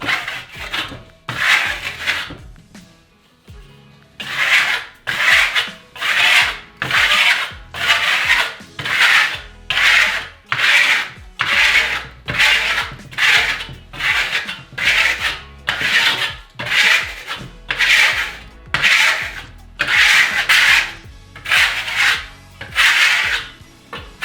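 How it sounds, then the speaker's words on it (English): A steel burnishing trowel rubs over marmorino Venetian plaster on a wall in about twenty steady, rhythmic rasping strokes, close and fairly loud, each one a short scraping sweep with brief pauses between. "Burnishing trowel and our rag to wipe off any here."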